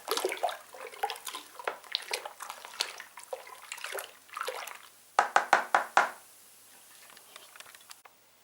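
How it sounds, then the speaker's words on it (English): Dark ale home brew kit mixture being stirred in a fermenting vessel after yeast is sprinkled on, with sloshing liquid and scraping, then a quick series of knocks against the container, close by, fading to quiet. "sprinkle it on and then give it a good stir"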